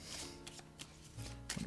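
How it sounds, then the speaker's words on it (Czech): A deck of angel cards being shuffled by hand, with soft repeated riffling and slapping of cards in quick uneven bursts, quiet and close. "Budu si chvilinku míchat."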